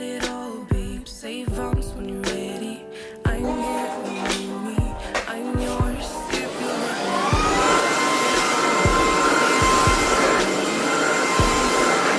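A household vacuum cleaner runs steadily and loudly throughout a deep-cleaning session, its drone rising and thickening partway through, with intermittent knocks and bumps of the machine against surfaces.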